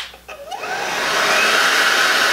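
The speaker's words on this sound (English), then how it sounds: "I'm trying my best to keep the blow dryer aimed in the direction of hair growth." A blow dryer drying hair starts up with a rising whine and settles into a loud, steady high-pitched rush of air close by, with no talking.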